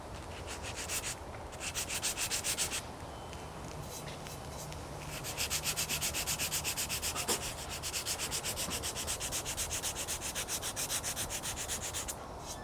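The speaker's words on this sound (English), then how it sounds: "we're gonna scuff the outside surfaces a little bit" A 220-grit sanding disc scuffing the outside surface of an old Chevy Tahoe body panel, a close, steady rhythmic rasping scrub in repeated strokes with brief pauses between passes.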